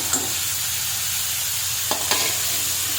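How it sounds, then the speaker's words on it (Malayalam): Paneer curry masala sautés on a medium flame with a continuous close hiss and sizzle, broken by a couple of brief stirring scrapes. "മീഡിയം ഫ്ലെയിമിൽ വെച്ച് നല്ലപോലെ വഴറ്റി വേവിച്ചെടുക്കാം"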